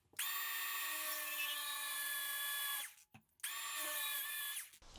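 A grinder cuts tile for a shower door install with water keeping it cool, heard as a close, steady high-pitched whine for several seconds, a brief break, then a second whining pass.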